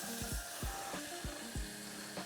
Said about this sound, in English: what we're trying to do is brown the butter